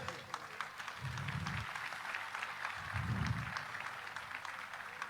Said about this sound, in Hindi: एक बार खड़े होकर करतोल ध्वनि से ताली बजाइए